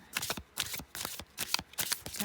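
Tarot cards being shuffled by hand in repeated bursts of crisp riffling and flicking, close and fairly quiet, with brief pauses between handfuls.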